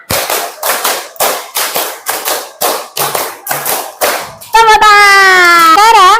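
A class of children claps in an evenly spaced run of about nine loud, crisp group claps, then a voice follows.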